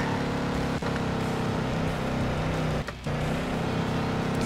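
Video game cars rev and drone in a loud, continuous engine tone that wavers in pitch, with a brief dip in the middle and no speech.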